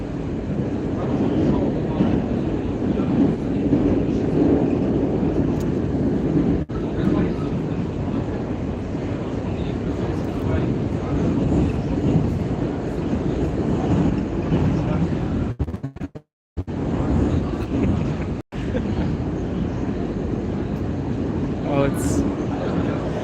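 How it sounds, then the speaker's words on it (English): A Moscow subway train at night roars loudly throughout a ride, a dense, steady rumble of wheels and tunnel noise with rattling, briefly cut by a couple of dropouts, and voices faintly mixed in. "So we're currently in the subway. I won't be able to talk with you guys a lot because it's pretty loud in here"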